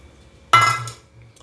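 One sharp metallic clatter of a utensil in a pot while moong dal pakoda curry is stirred, a single bright clink that rings briefly and fades in a quiet kitchen.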